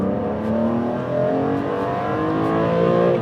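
Modified BMW E46 M3 engine revving through an intake with individual throttle bodies, a loud, close, rising harmonic snarl that holds steady for a few seconds with no talking.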